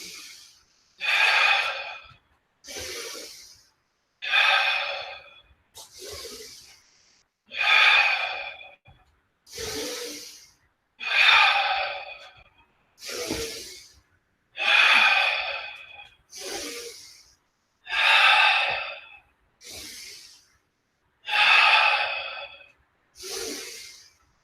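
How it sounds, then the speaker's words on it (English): Audible breathing during a walking and breathing exercise: a steady series of about a dozen strong, hissing breaths, evenly spaced and close up, with short quiet gaps between them. "I'm going to breathe pretty audibly so that you can hear the breathing"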